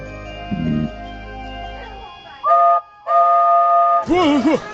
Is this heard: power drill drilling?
no